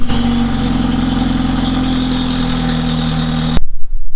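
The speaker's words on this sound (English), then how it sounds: "That there's a loud rattling sound." A BMW F30 328i fitted with a catless downpipe idles loudly and steadily with a rough mechanical rattle, the engine cutting off just before the end.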